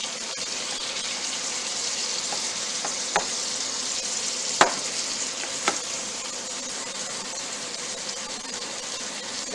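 Meatballs and steak fries sizzling steadily in a hot pan or grill, a continuous frying hiss with a few sharp clinks and scrapes as the meat is flipped and moved around, no talking.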